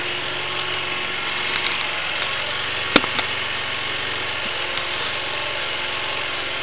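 A gasifier-fuelled generator engine runs steadily under load below full RPM, giving a continuous low purring drone with a couple of brief clicks partway through, and no talking.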